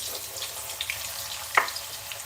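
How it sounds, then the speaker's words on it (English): Potatoes deep frying in hot oil give off a soft, continuous sizzle and crackle, fairly faint, with a brief clink or stir near the end. "And you'll hear them deep frying"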